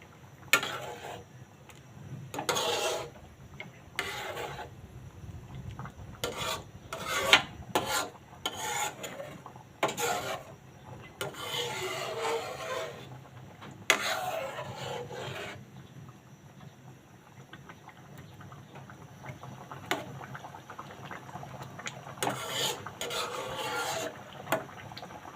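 A utensil stirs a home-cooked dish in a pot, making repeated scraping, rasping strokes in irregular bursts with quiet pauses between them.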